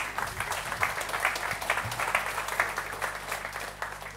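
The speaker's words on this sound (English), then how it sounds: "please applaud her" Audience applause fills a conference hall after a talk at a tech event on ecommerce and retail, a steady wash of clapping at moderate volume with no speech over it.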